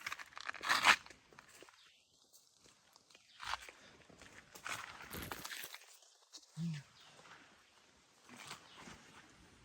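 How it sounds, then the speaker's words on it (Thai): Footsteps of a person walking toward the camera, heard as a few soft, uneven crunching steps on rough ground. They are faint and sporadic against a quiet outdoor background. "ได้ยินเสียงเดินนะครับ"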